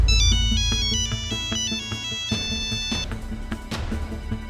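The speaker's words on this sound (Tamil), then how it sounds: "எனக்கு ஃபோன் வந்துச்சு." Phone ringtone playing a bright electronic melody, loud and close, with background music underneath and no speech.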